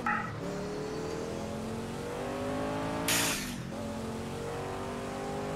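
A Sauber C9 Group C race car in the Project CARS racing game, its engine loud and steady as it accelerates through rising harmonic sweeps, with a brief tire-squeal burst partway through.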